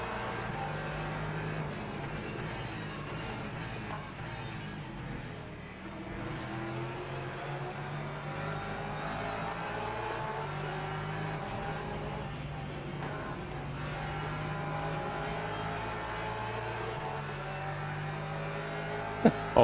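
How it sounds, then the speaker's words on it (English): Corvette race car engine droning steadily in a racing video game at an endurance event in Barcelona, a continuous loud engine tone with shifting pitch throughout. "that Corvette is shifting"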